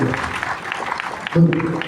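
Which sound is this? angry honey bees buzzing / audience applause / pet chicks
audience applause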